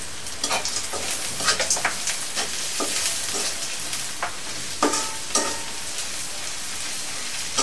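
Bay leaves, cinnamon and cardamom frying in hot oil while being stirred for a potato dal: a bright steady sizzle with frequent quick spoon clicks and scrapes, close up, no voices.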